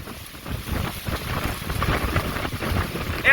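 Strong wind from Hurricane Sally on Dauphin Island, Alabama, roars steadily and buffets the microphone up close, with a sharp gust rising at the very end.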